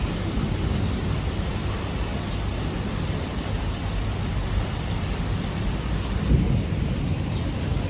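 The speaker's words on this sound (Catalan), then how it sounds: "està fent un dia així com, bueno, de mig tempesta" A thunderstorm with steady, heavy rain hissing loudly and continuously, deep thunder rumbling underneath throughout, and a slightly stronger rumble near the end; no voices.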